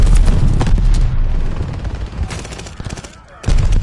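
Loud close gunfire in Call of Duty: Vanguard multiplayer, sustained automatic bursts with heavy booming impacts, thinning out briefly before another hard burst, with players talking over the shooting.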